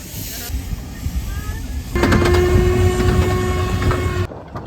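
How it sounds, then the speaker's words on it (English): A miniature steam train on the Dungeness peninsula rumbles along with steady mechanical rattling and a sustained whistle-like tone, growing louder midway before cutting off abruptly. "I'm now in a toy steam train which runs down the Dungeness Peninsula"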